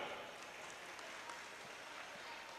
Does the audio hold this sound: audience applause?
yes